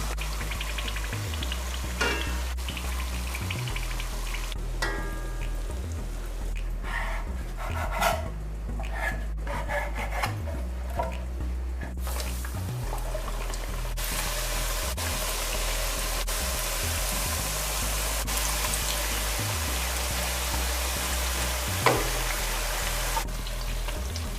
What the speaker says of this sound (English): And these are finished frying.